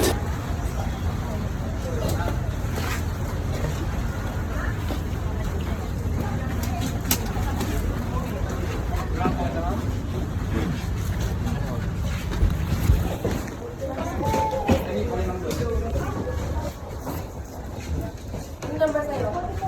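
Ferry boat ride to Boracay, with a steady low engine rumble, water wash and wind noise running throughout, while people talk over it.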